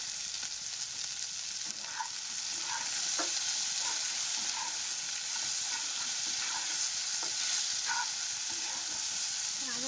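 Garlic paste and spices such as salt, turmeric, green chili and red chili fry in a pan for a Bengali-style Bombay duck (lote fish) dish, a continuous close sizzle with scattered pops and stirring scrapes.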